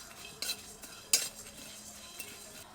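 Whole coriander, cumin, peppercorns, cinnamon and mace dry-roast in a pan, heard as quiet stirring and scraping. A couple of sharper clinks from a metal spoon against the pan stand out, with no talk.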